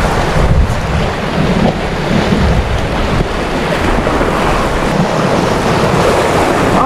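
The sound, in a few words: wind blowing on a boat at sea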